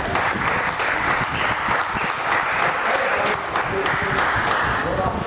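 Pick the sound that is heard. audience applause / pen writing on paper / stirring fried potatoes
audience applause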